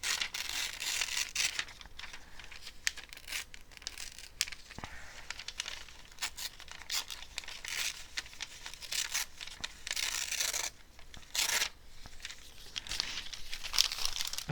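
Vintage paper being torn by hand for a gluebook spread, close crinkling and ripping that runs steadily with brief pauses, dry papery rustle throughout.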